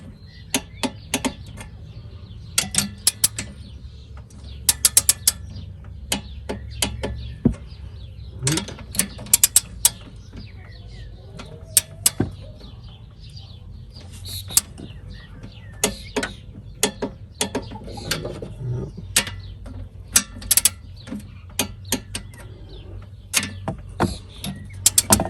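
A torque wrench ratchets while someone works on a Polski Fiat 126, giving sharp clusters of close metallic clicks at irregular intervals over a low background hum.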